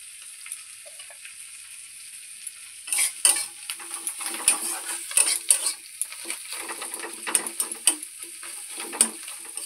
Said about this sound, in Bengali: এখানে আমি পেঁয়াজ, রসুন, আদা আর ধনেপাতাকে তেল দিয়ে ভেজে নিয়েছি।